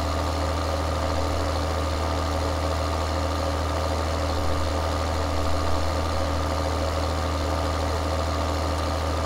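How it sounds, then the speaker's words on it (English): Tractors working a grass field in Farming Simulator 2013, a steady droning engine hum that holds unchanged and close throughout, with no talk. "It's always fun when you can see two tractors working on the field at the same time."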